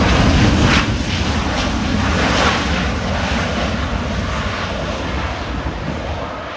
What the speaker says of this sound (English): That was a nice smooth landing.